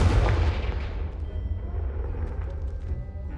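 A Confringo spell blast in the Hogwarts Legacy video game erupts as a loud, booming explosion right at the start, then rolls off into a long, rumbling decay that fills the rest of the moment.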